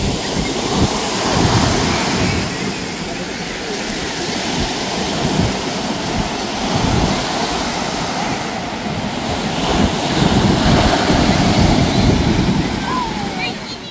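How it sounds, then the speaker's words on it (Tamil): Ocean waves wash onto Besant Nagar beach in Chennai at night, a loud continuous roar of surf with rolling surges and wind buffeting the microphone, no voices heard. "அந்த கடல் அலையோட சவுண்டே ரொம்ப சவுண்டாக இருந்தது."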